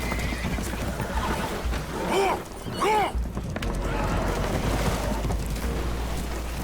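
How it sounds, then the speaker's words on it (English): Two loud, wavering whinnies from spooked horses in Red Dead Redemption 2 ring out close together over a constant rushing, watery rumble and splashing as a vessel takes on water. "Horses are spooked, and we're taking on water."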